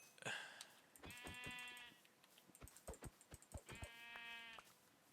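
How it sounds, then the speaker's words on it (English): Two drawn-out sheep bleats from a video game (Minecraft Bedrock), with a steady, buzzy tone, separated by a series of sharp clicks and taps. "Let's get rid of the white sheep."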